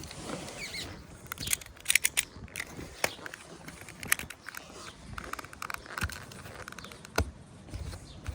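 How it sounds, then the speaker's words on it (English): Old cracked, faded sealant being cut out of a Jayco caravan seam, heard as repeated close scraping and snipping clicks in an irregular rhythm, moderately quiet with no talk. "it's kind of just a case of cutting it out so the bulk of it comes out"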